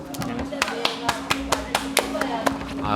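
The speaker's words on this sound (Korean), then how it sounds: "박수." Several sharp hand claps in a loose, uneven rhythm, close and fairly loud, over a low steady background hum.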